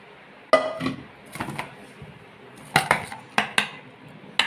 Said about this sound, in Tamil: ட்ரேயில் கொட்டியிருக்கேன்.